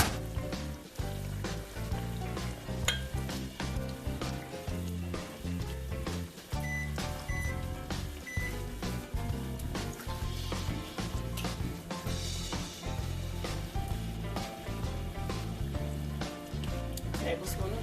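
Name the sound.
Worcestershire sauce added to sizzling seafood in pan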